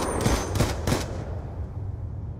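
Three rapid bursts of video game gunfire crack out close and loud in the first second, then fade into a low rumbling tail with no talk.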